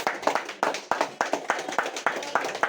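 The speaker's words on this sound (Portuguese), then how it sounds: "Palmas para Jesus" A church congregation at a New Year's Eve service claps in rhythm, sharp, evenly spaced group claps repeating about every third of a second, close and distinct.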